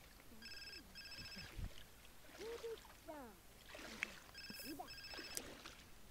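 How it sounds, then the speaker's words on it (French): A telephone ringing in The Sims 4, two short bursts of electronic trilling rings at the start and again near the end, with game sounds and chirpy murmurs in between. "Le téléphone sonne, ça y est, tout est arrêté."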